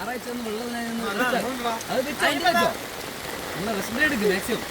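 Steady rain falls close by, a continuous patter on surfaces running throughout while several people talk over it.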